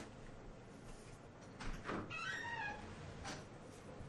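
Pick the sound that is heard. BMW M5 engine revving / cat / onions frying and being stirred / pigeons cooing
cat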